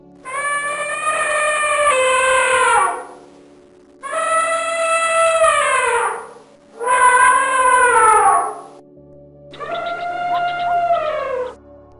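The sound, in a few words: elephant trumpeting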